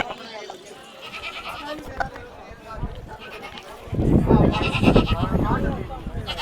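A goat bleats loudly and nearby several times at a market, mixed with people talking and calling out around it.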